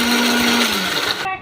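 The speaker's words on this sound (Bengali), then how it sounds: "এবারে এগুলো মিক্সচারে আমরা ব্লেন্ড করে নেব" A mixer grinder whirs loudly and steadily as it blends dal, cumin, mustard seeds, potato, onion and chili, then cuts off abruptly near the end of a short burst.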